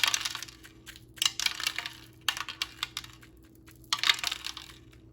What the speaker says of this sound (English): I'm gonna go ahead and put the sprinkles over a paper plate.